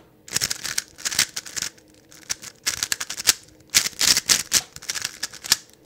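Rapid plastic clicking and clacking in bursts from an unlubricated GAN Air SM speed cube being twisted quickly up close, with brief pauses between runs of turns.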